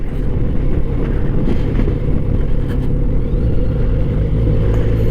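A car engine idles with a steady, loud low rumble throughout, close by, with no talking.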